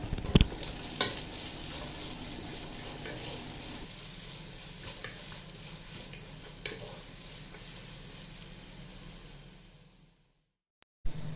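Onion and carrot sizzle steadily in a pan with a few sharp clanks and scrapes of stirring at the start, the frying fading out before a brief silence.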